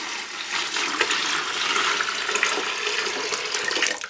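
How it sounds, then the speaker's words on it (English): Water runs steadily from a tap for homemade ginger beer, a gallon filling a container in a continuous close rushing pour with no talk. "And add a gallon of water"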